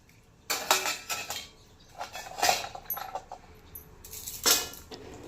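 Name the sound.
adding ingredient into pan while roasting dry fruits for laddu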